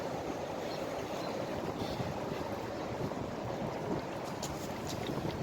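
Steady broadband wind rushing and buffeting outdoors, continuous and fairly loud throughout, with no voices.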